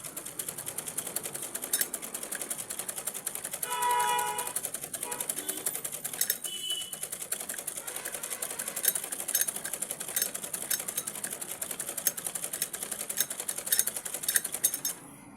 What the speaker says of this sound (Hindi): खींच जाता कपड़ा, सिलाई मशीन खींच लेती है।